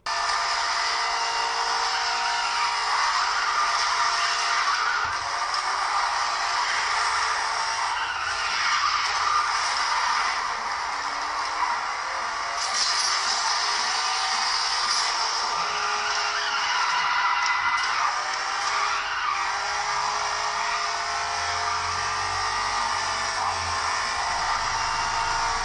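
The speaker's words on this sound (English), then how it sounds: "So now we are playing Asphalt 8 Airborne" In the mobile racing game Asphalt 8 Airborne, cars skid with continuous hissing tire squeal over a constant engine roar, loud and sustained with no talking.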